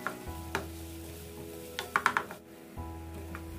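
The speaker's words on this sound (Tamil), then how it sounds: "வெங்காயம் நல்லா வதங்குற வரையும் நம்ம வந்து வெயிட் பண்ணணும்" Sliced onions sautéing in a pan for a chilli chicken curry give a low, steady sizzle, with a few scraping stirs of a spatula and light clinks near the middle of the clip.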